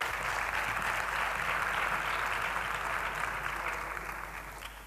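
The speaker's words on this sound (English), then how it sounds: "An applause for her." Audience applauding a keynote speaker at a conference, a steady dense wash of clapping that holds throughout and fades slightly toward the end, with no voices over it.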